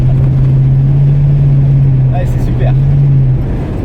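A 1969 Ford Mustang coupé Grandé with a three-speed FMX gearbox accelerates, its engine droning loud and steady with a rising note, while a voice talks over it.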